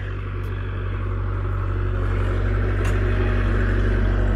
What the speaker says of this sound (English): So he's gonna go ahead and move this around with the Bobcat.